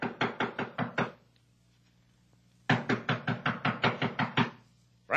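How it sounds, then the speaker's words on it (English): Knocking on a door as a radio drama sound effect: two bursts of quick, firm raps, about six knocks each, separated by a short pause, close and alone. "I've been knocking on the door, and she doesn't answer."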